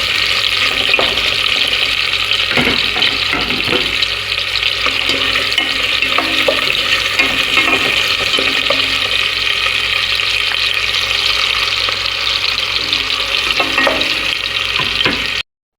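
Onions fry in a pan with tomato paste and Maggi seasoning, a continuous sizzling hiss with intermittent stirring scrapes and clatters, fairly loud and close, with no talking.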